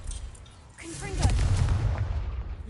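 A Confringo blasting spell in Hogwarts Legacy bursts into a single deep, booming explosion that swells and rumbles on for over a second after a brief rising whoosh, with a voice speaking just before.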